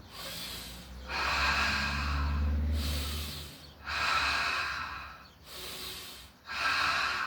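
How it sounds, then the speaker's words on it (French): Deep breaths in and out through an open mouth during a guided breathing exercise, heard close up, with long audible inhales and exhales repeating in a slow cycle of about four breaths. "Inspire, expire, bouche ouverte."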